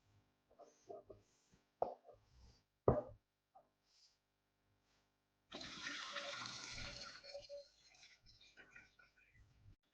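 Liquid cooked out of mushrooms pours from a pan in a steady splashing gush lasting a few seconds, close by, after a few quiet kitchen clatters and brief talk.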